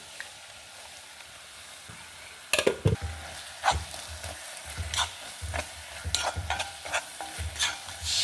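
Ground masala for a jackfruit seed kurma sizzles as it roasts in a pan, with repeated scraping stirs and spatula knocks growing louder after a quiet start.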